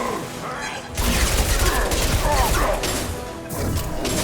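Gunfire and loud crashing impacts burst out in a Mass Effect 2 firefight after a quieter opening moment, a dense, sustained clatter with a voice speaking over the combat.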